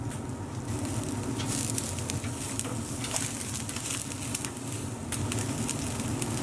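Lebanese lamb shish kebabs sizzle steadily over the heat, a soft, even crackle and patter that runs without pause, close and moderately quiet.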